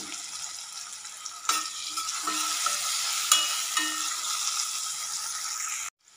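Potato pieces frying in oil in a pan for an Indian potato and brinjal dish, a steady close sizzle with occasional stirring scrapes, ending abruptly.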